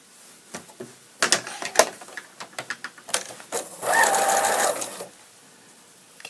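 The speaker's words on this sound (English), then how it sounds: "Now we're going to sew these together, and I'll show you how we press them." A sewing machine stitching quilt pieces together, with short bursts and handling clicks first, then a steady run of whirring stitches for about a second before it stops.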